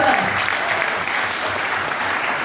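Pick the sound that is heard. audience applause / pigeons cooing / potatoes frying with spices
audience applause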